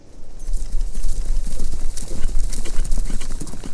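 Horse hooves clip-clop steadily as the animals come down a hillside, loud and close with dense, irregular hoof strikes throughout, with a faint whinny.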